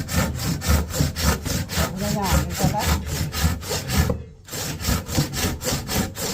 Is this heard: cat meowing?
no